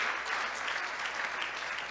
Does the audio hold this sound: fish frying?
no